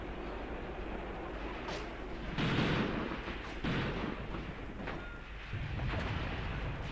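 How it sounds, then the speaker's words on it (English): Mortar fire in the WWII tactical video game Graviteam Tactics, Kharkov 1942 setting: a few dull, distant booms rolling out over a constant rumbling battlefield background. "Nice, our mortars are doing some work here as well."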